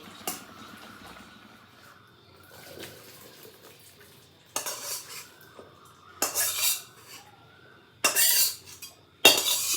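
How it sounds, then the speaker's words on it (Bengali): Boiled banana flower is poured from a pot into a strainer basket, with clattering metal and splashing water in a few loud bursts toward the end after quieter handling, close by. "সিদ্ধ হয়ে গেছে এবার আমি ঝুড়িতে ঢেলে নেবো"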